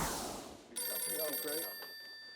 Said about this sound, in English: The phone rings with a mysterious voice on the other end of the line